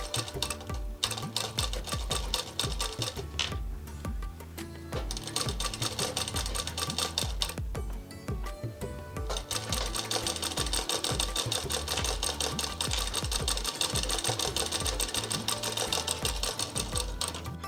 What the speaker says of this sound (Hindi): अब इसे पलट देंगे और पट्टी वाले हिस्से में बखिया की सिलाई कर देंगे